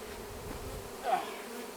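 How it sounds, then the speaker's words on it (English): Bees hum steadily at close range around a hive being installed on a ranch, a continuous low drone that swells briefly midway. "the bees come up in between, inside the screened area and feed"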